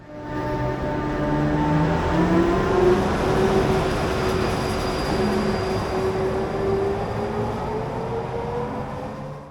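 A locomotive detaching for a runaround on Hungarian railways rumbles steadily with rolling wheel noise and a long, rising metallic squeal, a continuous moderately loud rail sound.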